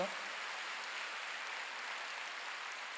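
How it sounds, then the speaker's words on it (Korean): A church congregation at a Wednesday night worship service claps together in a dense, steady wash of applause, moderately distant and fairly quiet, sustained throughout. "빨리 박수"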